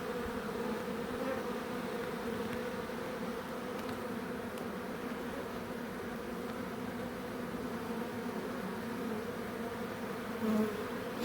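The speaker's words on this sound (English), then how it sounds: "So many bees in the air." A steady, dense drone of many bees buzzing continuously, close and fairly quiet, with no voices.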